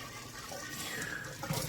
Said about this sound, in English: So I'm going to put this over into the sink. I'm going to pour that in there.